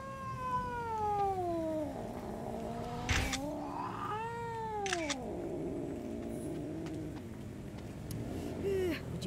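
A cat in DreadOut 2 meows several times, long drawn-out wavering cries with a few sharper calls, close and clear over faint background noise and occasional clicks.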